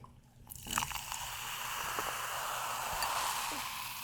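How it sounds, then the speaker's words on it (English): Fizzy British soda pours into a glass up close, starting with a splash and settling into a continuous bright fizzing hiss with scattered pops. "Really nice fizz on that."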